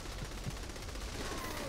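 Rapid gunfire in the Saints Row The Third video game, a dense rattle of quick bursts under a steady wash of game noise, somewhat distant and not very loud.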